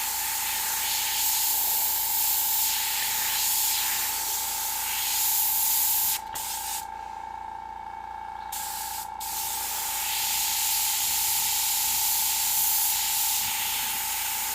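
An airbrush sprays paint onto a skull with a steady, fine hiss that runs without a break, briefly cuts off for a couple of seconds in the middle, then resumes at the same even level.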